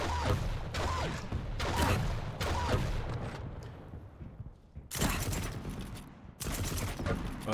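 Rapid bursts of tri-volt weapon fire in a Quake duel, loud clattering volleys broken by short pauses, with dense in-game effects around them.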